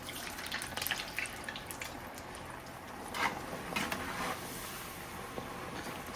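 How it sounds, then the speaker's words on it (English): French fries drop into heated oil and fry with a soft, steady fizzing hiss and scattered faint crackles, quiet and close. "So then I've got my oil all heated up. We're gonna go ahead and just start dropping in our fries."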